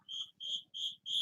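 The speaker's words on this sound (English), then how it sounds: "Stupid crickets." A cricket hiding under a dresser indoors chirps in four steady, evenly spaced bursts, loud and close, each a sustained high trill separated by brief pauses, with no voices.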